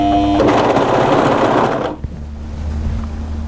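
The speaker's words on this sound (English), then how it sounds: "make sure that that is right on the very edge when you overlock it through" An overlocker runs along the edge of a seam on an off-shoulder raglan swing sweater, a close, dense whir for under two seconds before it stops, leaving low hum.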